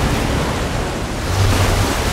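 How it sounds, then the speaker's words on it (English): Water rushes out in a released flood in the Minecraft Story Mode video game, a steady, loud broadband roar like surf that holds for about two seconds with no talking. "I don't know how much water this thing is going to kick out"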